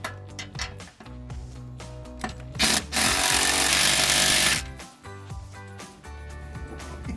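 A power tool, likely an impact wrench, tightens the rear exhaust muffler clamps on a 2019-2023 Silverado fitted with an AFE Apollo GT 3-inch muffler, firing in short bursts and then one long, loud sustained run.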